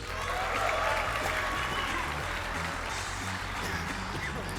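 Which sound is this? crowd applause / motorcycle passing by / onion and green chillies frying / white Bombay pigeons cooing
crowd applause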